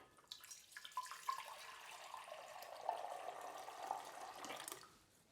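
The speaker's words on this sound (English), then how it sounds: "And all we're going to do is put it into the saucepan" Warm water runs from a tap into a saucepan, a soft, steady pour that is faint and close and stops near the end, with no talk.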